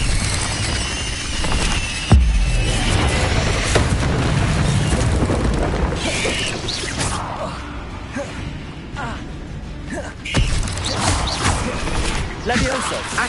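In the video game Hogwarts Legacy, the Incendio fire spell flares with a sharp burst and a roaring, crackling whoosh of flame, followed by further booms and swishes, all under loud game sound and overlapping speech.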